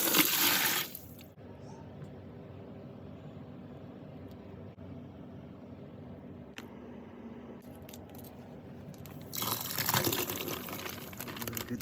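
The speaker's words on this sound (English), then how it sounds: "dump it in with the 2 liters of hot water" Two liters of hot water gush into a home-brewing fermenter holding Morgan's Cortez Cerveza kit, in two loud pouring bursts at the start and end with a quiet stretch between.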